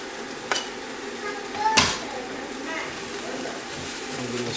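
Mushrooms stir in about 20 grams of oil in a pan for a Chinese veggie noodle soup with tofu, giving a soft sizzle with a few sharp utensil knocks against the pan and light background noise.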